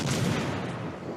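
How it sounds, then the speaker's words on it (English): Torpedo hits in the naval video game World of Warships Legends land as a dense, rumbling burst of explosions, loud and sustained through the short moment. "there are some torpedo hits"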